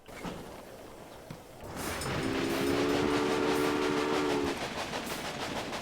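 A freight train in the Railway Empire video game rolls along the rails with a rising rumble, then a sustained horn blast sounds midway and fades as the rolling continues.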